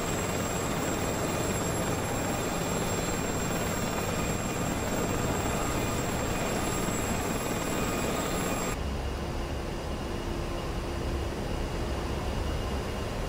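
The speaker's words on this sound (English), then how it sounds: "Those are choppers." Helicopters fly in the combat flight simulator DCS A-10C II. A loud, steady rotor and engine drone runs the whole way through without letup. Partway through, the tone shifts to a duller, muffled version of the same continuous roar.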